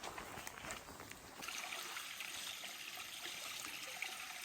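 Rainwater runs over a flooded section of hiking trail, making a steady broadband rush and trickle that sounds close and fairly faint, with no voices.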